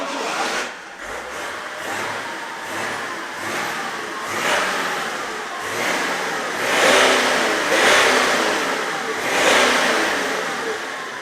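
A BMW E60 car engine with an engine fault revs repeatedly, rising and falling in pitch in several surges, loud and close, with no talking.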